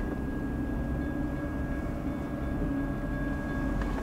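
A train approaches a railroad crossing with the gates down, a low steady rumble with a faint sustained horn-like tone above it, constant and moderately distant throughout.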